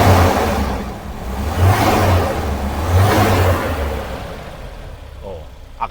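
A Toyota Lite Ace engine with a newly replaced carburetor runs nearby in a steady, smooth idle drone with gentle swells in intensity before fading, while a person talks over it.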